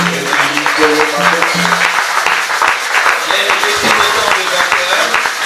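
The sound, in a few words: church congregation applauding loudly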